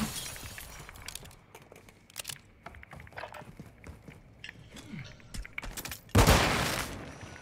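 Dual pistols fire in an online shooter match, a scatter of sharp shots and clattering impacts with footsteps in between, ending in a louder burst of gunfire.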